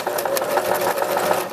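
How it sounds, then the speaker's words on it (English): A sewing machine stitching across an invisible zipper, running in a fast steady whir of rapid needle strokes, close and alone. "You can use a zigzag stitch or stitch right over that because it's too long."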